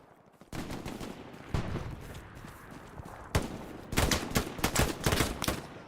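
Gunfire in a competitive Hell Let Loose match in Carentan town center: sharp, loud rifle and automatic shots in scattered bursts, building to a rapid, dense volley near the end.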